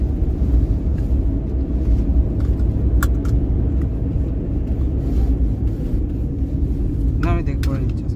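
A Maruti Suzuki Alto 800 Lxi running, a low, steady engine and road rumble heard close from inside, with a few faint clicks and a brief squeak near the end.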